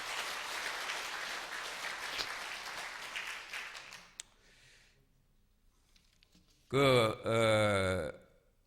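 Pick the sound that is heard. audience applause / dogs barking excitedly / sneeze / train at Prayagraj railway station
audience applause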